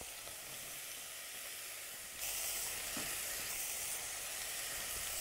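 Carrots stirred into salted, peppered beef frying in a pan for beef samosa filling: soft continuous sizzle and hiss, growing louder partway through as the pan is stirred.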